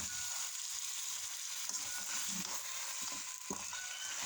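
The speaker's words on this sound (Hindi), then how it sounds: "अब मैं इसमें डालूँगी टमाटर" Four large tomatoes go into a hot pan and sizzle steadily, a dense, even frying hiss that holds for several seconds with faint clinks and no talking.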